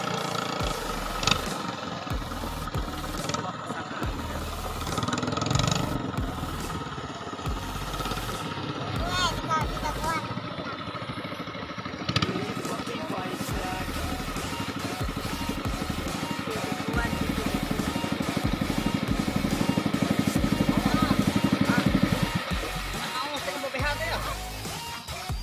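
A katinting outboard boat engine runs steadily on a test, a continuous droning hum that swells louder toward the end, with voices talking over it at times.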